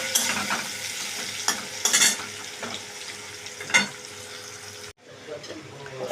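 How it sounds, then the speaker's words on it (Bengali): Raw onion stirred and fried in hot oil, with a close sizzle and several scraping strokes of a spatula against the pan that cut off briefly near the end before resuming softly. "এবার আমি তেলে একটু কাঁচা পেঁয়াজটা একটু নেড়ে চেড়ে নেব"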